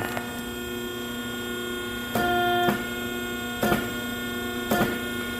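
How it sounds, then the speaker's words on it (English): Pipe bender bending an exhaust tailpipe to 45 degrees for a Blazer, a constant buzzing electric hum that swells into three short louder surges as the bend is worked, with no talking. "Gonna go ahead and give it our first bend for our tailpipe. I'm gonna do it to 45."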